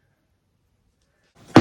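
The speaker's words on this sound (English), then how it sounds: "oh, I'm gonna sneeze." One loud, close human sneeze follows a short breathy intake after near silence, bursting out abruptly at the very end while houseplant soil is being mixed.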